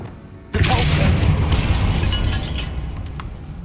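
Depulso force spell cast in the Hogwarts Legacy video game, a sudden loud booming blast that rumbles and fades over a few seconds.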